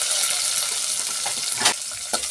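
Onion and curry leaves sautéing in hot oil for sambar, a loud continuous sizzle close by, broken by a couple of brief scraping stirs.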